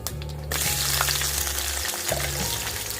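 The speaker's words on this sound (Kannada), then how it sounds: "ಸಾಸಿವೆ ಸಿಡಿದ್ಮೇಲೆ ಅದಕ್ಕೆ ಈರುಳ್ಳಿ ಸೇರಿಸ್ತಾ ಇದ್ದೀನಿ." Chopped onion hitting hot oil after mustard seeds have popped, for a greens sambar, sets off a loud, steady sizzle that flares at the drop and keeps frying close up with no voices.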